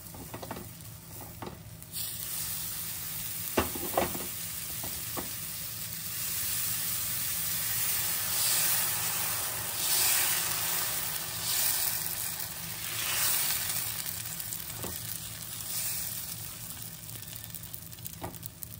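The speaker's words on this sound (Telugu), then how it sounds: "ప్యాన్ వేడైందండి. ఇప్పుడు మనము దోశ పిండి వేసుకుందాము." Dosa batter hisses and sizzles steadily on a hot pan for a homemade restaurant-style masala dosa, a loud continuous frying wash with a few sharp clicks early on.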